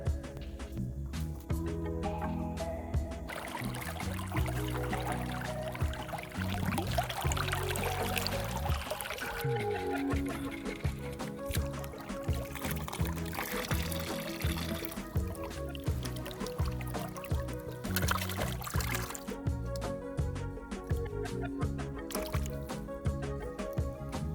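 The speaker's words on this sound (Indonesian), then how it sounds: "Sekalian kita cuci juga udangnya." Shrimp and cut young bamboo are washed by hand in water, with steady splashing, trickling and sloshing throughout, close by and fairly quiet.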